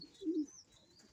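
Pigeon suffering from sour crop giving a single soft low coo, faint and close, with a thin high tone in the background.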